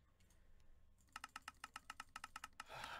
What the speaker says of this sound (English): I'm getting really fast at clicking.